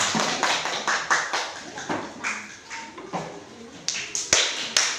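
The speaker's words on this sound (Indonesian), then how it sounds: "tepuk tangan untuk kelompok 1" Students in an Indonesian school classroom clap for a group that has just presented, a loose scatter of sharp, uneven claps and taps in bursts, with some quiet voices between them.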